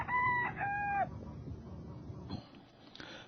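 Rooster crowing in a short, clear call with a rising then falling tone, fairly close, followed by quieter clucking and rustling.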